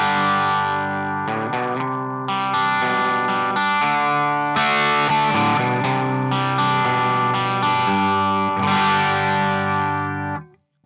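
Electric guitar played through a Quilter Interblock 45 amp with the mids turned fully up, strummed chords ringing out continuously for about ten seconds with a thick, smooth midrange and light effects, then cut off abruptly at the end.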